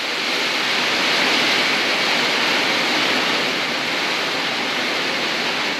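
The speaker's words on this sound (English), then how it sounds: "rain hits the roof, it makes an awful racket" Heavy rain hammers on a tin shed roof during a gale, a loud, dense and unbroken roar of drumming that fills the space evenly without pause.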